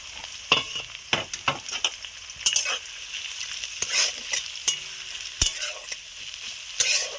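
Black pepper, cloves, garlic and ajwain fry in oil for a homemade ayurvedic oil, giving a close crackling sizzle broken by sharp scrapes and clacks of a spoon stirring against the pan, without any voices.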